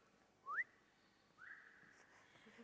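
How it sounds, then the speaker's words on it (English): Referee's whistle at a basketball defence drill: a short sharp rising whistle blast, then a second longer held tone about a second later, fairly faint against a quiet hall. "Okay, so the whistle goes."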